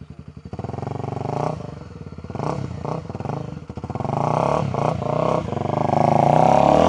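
A motorcycle engine revs in gentle, repeated throttle swells, a close, loud buzzing drone that rises and dips several times before holding steady.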